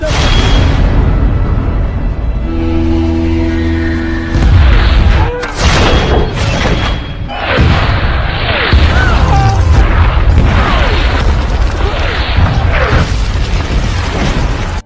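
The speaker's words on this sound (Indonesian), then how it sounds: "Divisi artileri langsung menembakkan meriamnya ke arah musuh dan beberapa mengenai sasaran." Artillery cannons fire at the enemy in a Vietnam War film battle, loud deep booms and blasts layered with crashes and dense combat noise, nearly continuous and overwhelming, with some voices mixed in.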